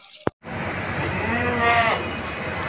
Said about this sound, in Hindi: भाजनी बकरी है, नागरी बकरी है, फुल हेड बकरी है